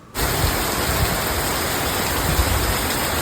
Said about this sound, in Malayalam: രാവിലെ തന്നെ പതിപോലെ നല്ല മഴയാണേ.